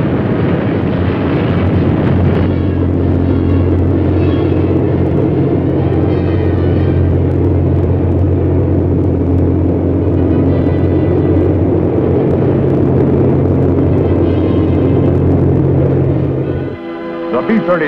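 Engines of a B-36 bomber aircraft, a steady, heavy droning rumble sustained throughout, loud and close, with no talk over it.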